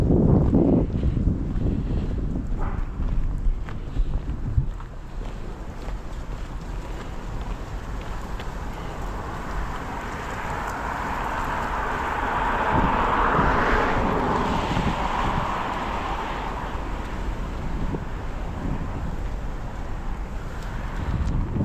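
Wind blows outdoors during a walk among maple syrup buckets, a loud continuous rush buffeting the microphone with gusts that swell and ease, and no voices over it.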